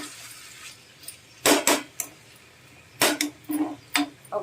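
A metal lid set onto a pan of prawns cooking in oil, heard as a few sharp close clinks and knocks in two short clusters over a quiet background.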